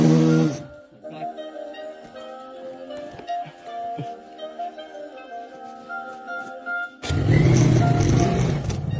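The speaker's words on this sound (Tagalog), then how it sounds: "nasa slide yung motor ko dyan, nasa slide kaya nahihirapan umakyat." A motorcycle labours up a bumpy, slippery dirt path, its engine droning unevenly with strained revs and mechanical knocks, then surging loudly near the end as the throttle opens.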